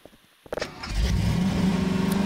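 A video game V8 engine starts with a few sputters, then settles into a loud, steady, deep rumbling rev.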